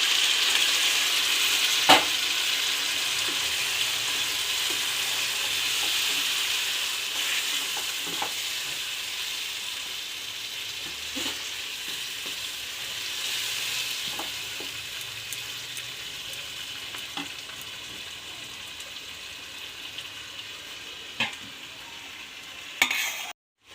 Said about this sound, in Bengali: এবার আমি ম্যারিনেট করা মাংসটা দিয়ে দেবো।